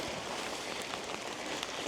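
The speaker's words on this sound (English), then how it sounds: "But yeah, it's raining." Rain falls outdoors in a garden by a decking potting bench, a steady dense hiss of drops on surfaces, constant and fairly close, with no talk.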